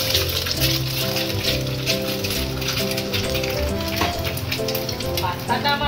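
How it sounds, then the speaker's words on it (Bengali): Egg frying in hot oil in a home kitchen, a dense steady crackle and sizzle running throughout at close range, with music playing underneath. "আমি ডিমটা তেলের মধ্যে দিয়ে"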